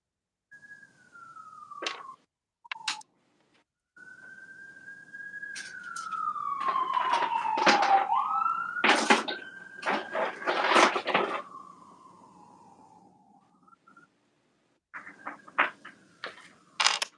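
Emergency vehicle sirens pass outside a room during a lapidary stone-cleaning session, wailing and sweeping up and down, faint at first then louder, mixed with intermittent clicks and clatter from the room, with no talking.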